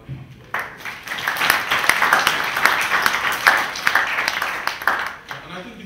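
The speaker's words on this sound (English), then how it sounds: "And I think it deserves a round of applause." An audience at a book launch breaks into steady applause, many hands clapping together for several seconds before it fades.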